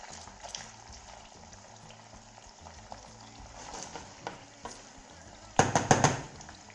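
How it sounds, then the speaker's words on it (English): Shrimp sizzle and crackle in a hot pan, a soft steady frying hiss that suddenly swells into a louder burst of spitting near the end. "So now it's beginning to sizzle."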